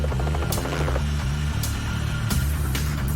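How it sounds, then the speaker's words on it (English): A helicopter flying over mountains, its rotor thumping rhythmically with a steady engine drone and periodic sharp blade swishes, close and loud throughout. "Helicopters are a really efficient way to get around in the mountains."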